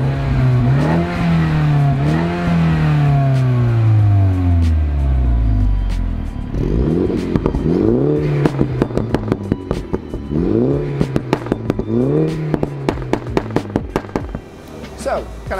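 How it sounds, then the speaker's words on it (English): A Mini Cooper F56 valved sports exhaust revs up and down repeatedly, rising and falling roars, then sharp crackles and pops burst out between throttle blips, close and loud. "let's have a quick listen on this Mini Cooper F56 just to see how it sounds in action"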